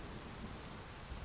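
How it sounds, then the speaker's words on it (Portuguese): Rain falls on a car, a dense, continuous hiss of drops steady throughout the brief moment. "Agora vai ficar chovendo na minha cara, mano."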